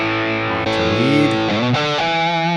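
Electric guitar lead tone through a Tonex amp capture: loud, saturated single-note lines with bends and sustained notes, playing steadily without any voice.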